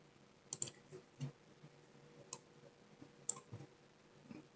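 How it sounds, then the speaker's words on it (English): Computer mouse clicks during a click-and-drag in 3D modelling software, a handful of faint, sharp, irregular clicks over quiet room tone. "Just click and drag."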